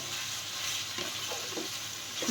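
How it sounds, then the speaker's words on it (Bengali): Vegetables and capsicum sautéing on a high flame for a Penne pasta dinner give a steady, close hiss of frying, with a few soft stirring scrapes and no voices. "হাই ফ্লেমে একদম সবজিগুলোকে সতে করা হচ্ছে"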